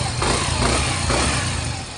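A Yamaha Mio i 125 scooter, recently stalled in floodwater, runs steadily up close with a constant buzzing engine drone and no talking.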